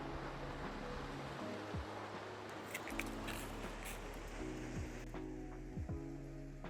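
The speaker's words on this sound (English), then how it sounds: "That is the snow runoff from the mountains there. It's a nice, peaceful, almost waterfall sound." Snow runoff from the mountains near the Jordanelle reservoir in Deer Valley, a winter trail scene, pours in a steady, broadband rush like a distant waterfall, continuous and unbroken with faint low rumbles underneath.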